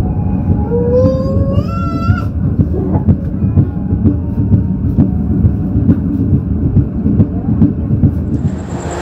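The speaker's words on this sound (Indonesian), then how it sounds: "perjalanan kereta Serayu sudah tiba di stasiun Kroya" The Serayu train arrives at Kroya station with a continuous low rumble and rhythmic clatter of the cars, while tonal squeals sweep across the first seconds and a brief high tone sounds at the end.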